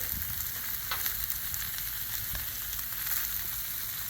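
Oil, butter and garlic sizzle steadily on a hot Blackstone griddle, a dense, even crackle that stays loud and close without pause.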